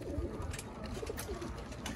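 Pigeons coo softly in a netted loft: low, throaty, rolling calls that repeat in short overlapping phrases at a modest distance.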